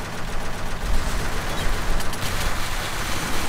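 Rapid gunfire from the online shooter game Offensive Combat, a dense continuous rattle of shots with low thumps, steady and loud throughout with no voices.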